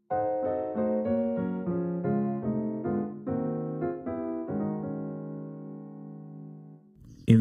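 Solo piano in F plays a gospel drop 2 voicing movement resolving into a 6 chord: a run of sustained block chords struck one after another in a steady rhythm, the last chord ringing out and fading alone, close and clear.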